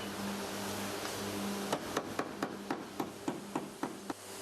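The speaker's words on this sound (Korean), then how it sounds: "용접과 망치질을 반복하면서 철판을 평평하게 펴면서 붙여줘야 표면이 깔끔하게 마무리된다고 하네요." Hammer blows on sheet steel during welding repair of a car body's inner panel, about a dozen sharp metallic strikes in a steady rhythm, close and fairly loud over a low workshop hum.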